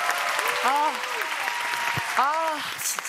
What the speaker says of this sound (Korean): 아 여러분 박수 한번 주세요.